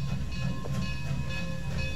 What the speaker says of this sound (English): K-36 Mikado number 482 parts the roundhouse to tie onto its train.